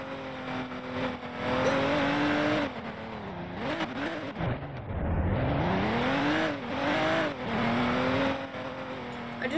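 A car engine in the video game Liberty County revs and winds through rising and falling pitch sweeps, dipping briefly before climbing again, loud and continuous.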